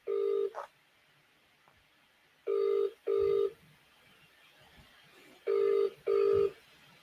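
A phone call rings out unanswered: a ringback tone pulses in pairs of short beeps separated by silent gaps, clear and steady with no one picking up.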